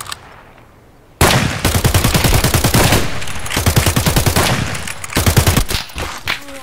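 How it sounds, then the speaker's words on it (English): Gunfire in a video game: rapid automatic bursts crackle loudly and close, stopping briefly and resuming several times, with the shots blurring into dense rattling volleys. "Take a shot, Clark."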